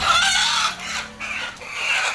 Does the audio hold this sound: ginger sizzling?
no